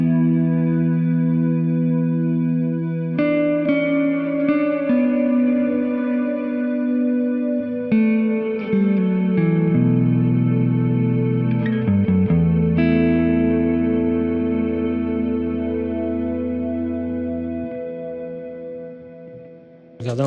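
A multi-reverb guitar pedal turns sustained guitar chords into a lush, synth-like wash, the tones changing every few seconds and swelling with long reverb tails for about twenty seconds before fading out.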